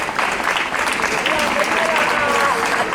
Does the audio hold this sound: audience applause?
yes